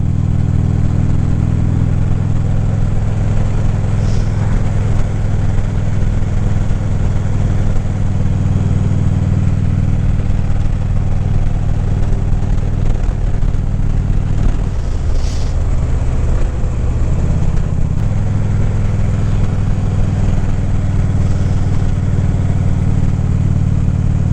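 A MoPickle motorbike engine hums steadily while riding on a cloudy Sunday, a loud continuous low drone with a brief dip and rise midway and wind noise over the top.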